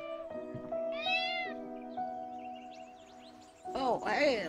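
A cartoonish cat in the Copycat video game meows several times in a row, a warbling mid-clip call and a louder two-part meow near the end, close and clear over a sustained musical drone.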